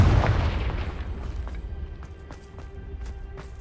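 A Confringo explosive spell goes off in Hogwarts Legacy as a deep, booming blast that hits hard and then rumbles away over a few seconds.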